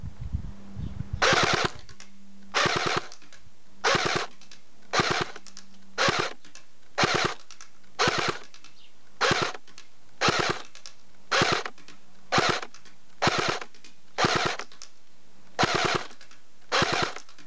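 A CYMA 1928 Thompson airsoft gun on an 8.4 volt battery firing full auto, about fifteen short rattling bursts separated by brief pauses, loud and close with no talk.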